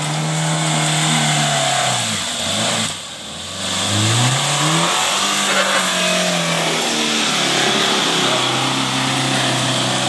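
Suzuki Vitara 4x4 driving off on a rough off-road track, its mid-pitched engine revving and rising and falling in pitch, a brief dip near the middle, then pulling steadily on with wind and rumble throughout.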